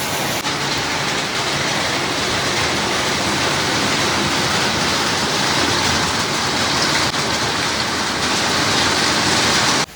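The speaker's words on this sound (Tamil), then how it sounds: "மழை அடிக்குது" Heavy rain pours steadily for the whole stretch, a dense, loud, even hiss of drops striking surfaces with no voices over it.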